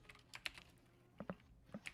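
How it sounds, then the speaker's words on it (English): Fingers tap on a computer keyboard in quiet, sparse bursts: a few close clicks, a pause, then a quick double stroke and a couple more light keypresses. "I'm just typing to James at the moment"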